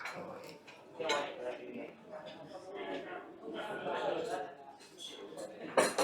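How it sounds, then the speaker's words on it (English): A knife and fork cut into a regular hotel breakfast sausage on a plate, giving light scrapes and scattered clinks of cutlery against crockery, close by, under steady background chatter, with a sharper clatter near the end. "Let's cut into one and have a little look inside."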